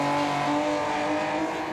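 An Acura NSX GT2 race car engine drones at high revs in Gran Turismo 7 during an endurance league race, a steady, loud, continuous whine with no voices.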